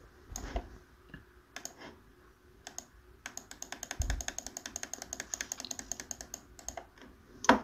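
Rapid clicking of keys on a computer keyboard, scattered taps at first, then a steady burst of fast typing, close and fairly quiet.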